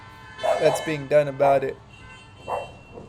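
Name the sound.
dog barking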